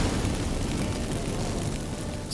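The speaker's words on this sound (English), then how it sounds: "Get ready for some magic fireworks." Magic fireworks set off by burning incense in The Witcher 3 fantasy game, a loud sustained crackling and rumbling burst that stays dense throughout, with a sharp pop near the end.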